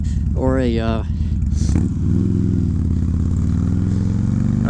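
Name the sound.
motorcycle engine exhaust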